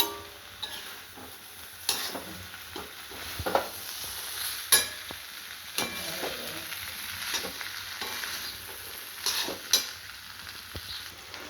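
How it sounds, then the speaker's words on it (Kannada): Fried potatoes go into a pan of bitter gourd sabji, giving a soft close sizzle with irregular stirring scrapes and taps of a spoon against the pan. "ಈಗ ನೋಡಿ ಕರೆದಿರೋ ಆಲೂಗಡ್ಡೆ ಹಾಕ್ಕೊತಾ ಇದ್ದೀನಿ"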